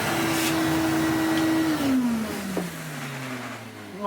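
A Goblin Omni 1000 vacuum cleaner runs close by with a steady whine, then its motor pitch slides downward as it winds down.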